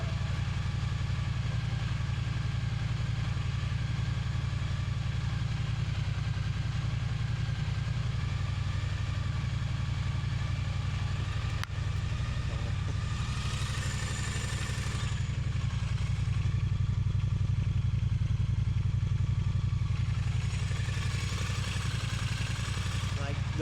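A Triumph Bonneville motorcycle engine, freshly fitted with new shims, idles steadily and close for the whole stretch with a light metallic clatter, while people talk quietly over it.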